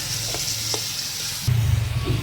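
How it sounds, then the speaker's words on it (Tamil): Onions and tomatoes sauté in hot oil with mustard seeds, a steady sizzle with a couple of soft stirring clicks, growing louder and more crackly as fresh ingredients hit the pan halfway through. "வெங்காயம் தக்காளியும் நல்லா வந்து வதங்க விட்டுடலாம்."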